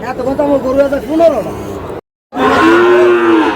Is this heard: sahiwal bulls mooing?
yes